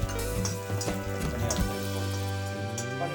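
Chopped green chilies fry for Schezwan sweet corn fried rice, giving a steady, dense crackling sizzle that stays even and close throughout.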